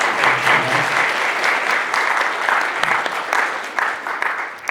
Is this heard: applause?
yes